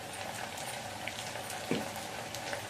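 Onions and potatoes fry in a pan with a little salt and turmeric, giving a steady close sizzle with light stirring clicks, and no voices.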